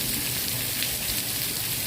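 Rain falling steadily in Phuket, Thailand, a dense, even hiss of drops on surfaces that stays constant for the brief moment.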